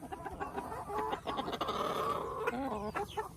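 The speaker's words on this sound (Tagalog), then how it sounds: "Patunay na maamo yung mga manok natin." Several tame farm chickens cluck and murmur up close while pecking feed from a hand, a busy run of short overlapping clucks and soft calls.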